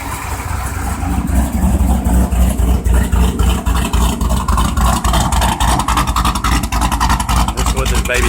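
A Roush Mustang engine runs steadily at idle, a loud, continuous low rumble with a rapid pulsing throb, heard close up with no talk over it.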